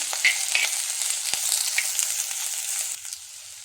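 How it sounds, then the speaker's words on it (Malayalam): Chopped colocasia stems and green chili sauté in a hot pan, giving a continuous, close, bright sizzle with a few soft stirring knocks and a brief thump midway. "അരിഞ്ഞ് വെച്ചിരിക്കുന്ന ചേമ്പിൻ തണ്ട് ഇട്ട് കൊടുക്കാം. ഇതെല്ലാം കൂടി ഒന്ന് വഴറ്റി കൊടുക്കാം."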